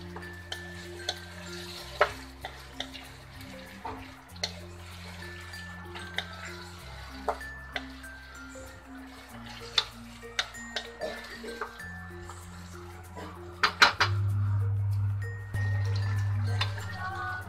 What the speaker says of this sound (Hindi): अब इसमें हम मैरिनेट किया हुआ ये चिकन डाल देंगे, और अच्छे से मसाला भूनते हुए इसको हम करीब 1 से 2 मिनट ऐसे इसको भूनने देंगे।